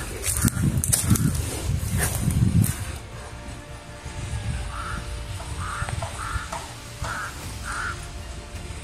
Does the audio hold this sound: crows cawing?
yes